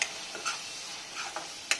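Garlic, ginger and chilli paste fries gently in oil over medium-low flame, a low sizzle broken by a few light stirring clicks and scrapes.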